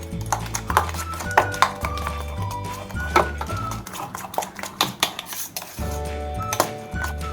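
Grated carrot, cabbage and onion are beaten together in a bowl for a vegetable bread toast, with repeated clinking and scraping of utensil on the dish in an uneven rhythm over soft background music.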